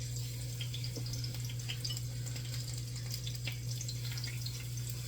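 Plantain pieces dipped in water sizzle and crackle in hot frying grease, a steady close hiss with scattered pops over a constant low hum.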